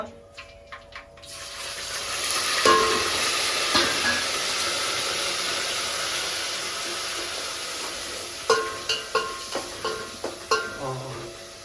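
Onion paste and chicken hit a hot pan with a sudden loud hiss that settles into a steady broad sizzle, then a quick run of sharp spatula taps and scrapes against the pan.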